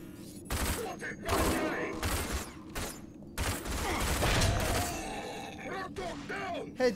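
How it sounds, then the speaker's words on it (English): Shotgun buckshot blasts in the shooter Rage, several heavy bursts in a rapid string over about seven seconds, loud and close, with game noise and voices talking over and between the shots. "That is so much buckshot."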